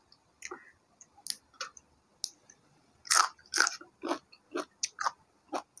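Someone eats a spicy canned fish salad with long beans and cucumber, giving close, crisp crunches and bites in irregular bursts separated by short quiet gaps.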